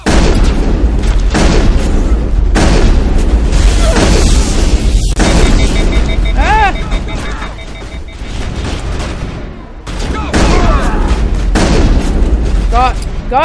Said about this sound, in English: Let's get the shotgun back out.